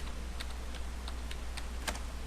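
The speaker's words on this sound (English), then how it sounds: "So we're going to type in our official warning here." Typing on a computer keyboard during router configuration: a handful of light, irregular key clicks, close and quiet over a steady low hum.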